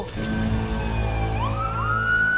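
An ambulance siren wails loud and close, its tone sliding and rising in long sweeps over a steady low rumble, with no voices.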